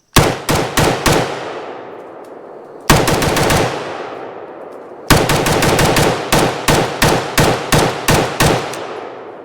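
An IWI Galil ACE rifle fed from an older Galil ARM magazine fires loud, close shots: a quick burst of five, a pause, a burst of four, then a longer string of about a dozen rapid rounds with ringing decay.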